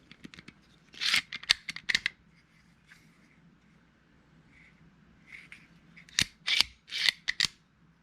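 A bolt fitted with an upgraded bolt handle slides back into a CZ 527 rifle, making two quiet clusters of crisp metallic clicks and scrapes separated by a pause.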